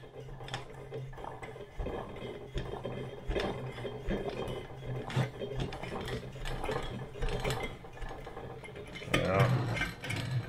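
A Coleman 533 Dual Fuel camp stove filled with unleaded fuel is hand-pumped to pressurize the tank, giving a steady series of ratcheting mechanical strokes, close and repetitive throughout.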